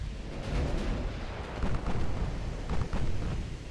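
Naval artillery in the warship game Ultimate Admiral Dreadnoughts fires 12-inch high-explosive shells, rumbling booms and bursts rolling together into a dense, low, continuous barrage at moderate loudness.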